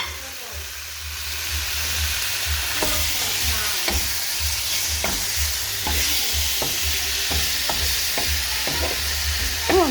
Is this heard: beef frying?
yes